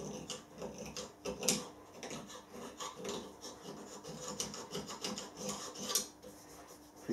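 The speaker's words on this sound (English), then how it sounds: "scrape the little rag off where the drill broke through" Steady rasping scrape of a tool dragged repeatedly across brass, removing a burr left by a drill, close up, with uneven strokes and brief louder rubs, no voices.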